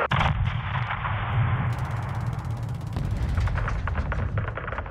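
Gunfire in Call of Duty: Modern Warfare II crackles in dense bursts, with heavy booming shots and rapid automatic fire that stay loud and close for several seconds.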